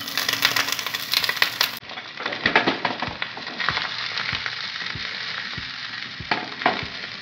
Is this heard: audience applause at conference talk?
no